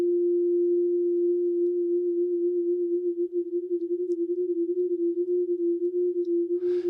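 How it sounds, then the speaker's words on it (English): A steady pure sine tone holds throughout, loud and alone, and a chorus effect brought in partway gives it a gentle wavering swirl toward the end. "Right now in my headphones, I'm getting this kind of swirly left and right sound."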